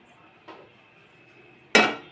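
A metal kadai is set down on a kitchen stove with two clanks: a soft tap first, then a sharper, louder metallic clang about a second later in a quiet room.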